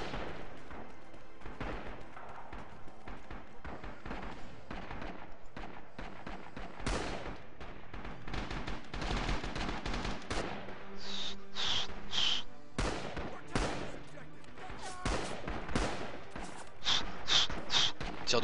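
Gunfire crackles through a Rising Storm 2 battle, dense bursts and shots near and far with sharp loud cracks toward the end, voices talking faintly underneath.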